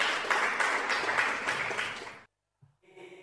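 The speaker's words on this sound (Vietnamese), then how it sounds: "Một tràng pháo tay quý vị ơi." Dense applause from a live audience at a Vietnamese cải lương stage performance, loud and sustained for about two seconds before cutting off abruptly, followed by faint stage sounds.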